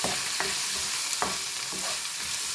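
A spoon stirs chicken breast samosa filling with turmeric in a hot pan, scraping in rhythmic strokes over a continuous close sizzle, with no voices.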